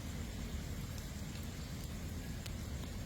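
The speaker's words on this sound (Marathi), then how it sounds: "वरून रिपरीप पावसाची चालूच आहे पाऊस चालूच आहे" Steady drizzle falls over a waterlogged police recruitment ground, a continuous, even hiss of rain on wet surfaces that holds at a constant level throughout.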